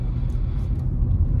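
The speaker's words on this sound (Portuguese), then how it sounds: "A experiência aqui de rodar com o Polo no dia a dia aqui em Parnaíba" A VW Polo TSI with manual gearbox rolls through town traffic, its engine and tyres making a steady low rumble from inside the cabin, fairly loud and without speech.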